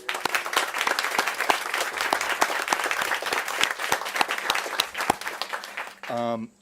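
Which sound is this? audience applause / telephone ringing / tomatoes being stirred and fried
audience applause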